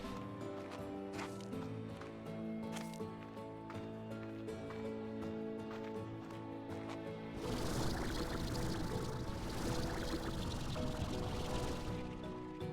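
Waterfall in the video game Slime Rancher 2, heard as steady broadband rushing water that swells louder partway through, over game music and sound effects.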